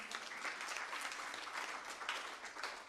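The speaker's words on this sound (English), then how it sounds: "Un tonnerre d'applaudissements," Steady applause from a conference audience at a summit closing session, a continuous wash of many hands clapping at an even level for a few seconds, without any voices over it.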